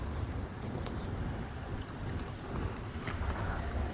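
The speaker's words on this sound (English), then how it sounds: "the wind even starting to pick up more now" Wind gusts blow steadily around a hunting blind during a lightning storm, a broad, rushing roar with buffeting against the microphone and no talking.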